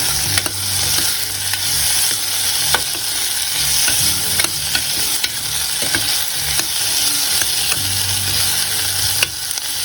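Potatoes frying in a pan for vegetable biryani, with a steady loud sizzle throughout and repeated scraping strokes as they are stirred, no voices.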